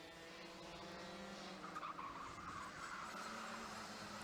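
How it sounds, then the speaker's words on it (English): Mini Max kart tyres squeal for grip at Ellough Park, a wavering high screech rising over a steady engine drone, moderately near. "You can hear the fact that it's got a little bit warmer, the tyres squealing for grip"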